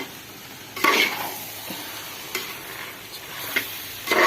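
Chicken pieces dropped into a hot pan for a Kerala-style chicken masala, giving a low steady sizzle broken by several sharp scraping stirs of a spoon against the pan, close and alone.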